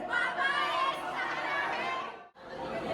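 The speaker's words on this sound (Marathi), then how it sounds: "बोल बम का नारा आहे" A large crowd queuing at Mahakaleshwar temple raises a continuous, dense chant of the Bol Bam slogan, with many overlapping voices holding steady before a brief dip near the end.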